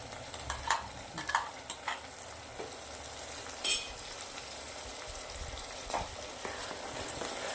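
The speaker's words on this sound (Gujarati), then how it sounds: "તો હવે આપણે જે ટામેટા પીસીને રાખ્યા છે એ નાખી દઉં છું ગ્રેવી." Ground tomato gravy sizzles and is sautéed in oil with peas. It gives a steady frying hiss with frequent clacks and scrapes from a spoon against the pan. No one speaks.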